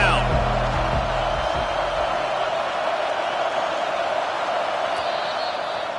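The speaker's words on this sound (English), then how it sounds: "Decibels rising as the crowd gets behind this defense on 3rd down." A stadium crowd roars for the defense on a third-down play at a football game, a loud, dense, unbroken wall of cheering that holds steady throughout.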